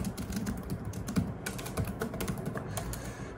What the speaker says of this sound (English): Now I'm typing on Dell.